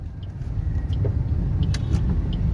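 A car pulling away in first gear and turning during a driving lesson, with a steady low engine rumble and light interior clicks and rustles close by.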